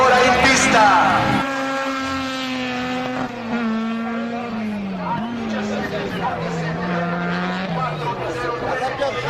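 A rally car racing on the course at the Rally del Salento, its engine note rising and falling through gear changes and revs, heard at a moderate distance under continuous talk from a commentator.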